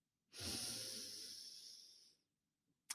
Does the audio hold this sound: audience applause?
no